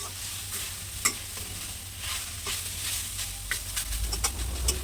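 Finely grated carrot for carrot halwa frying in a pan, a steady close sizzle with occasional scraping stirs of a spatula, no voices.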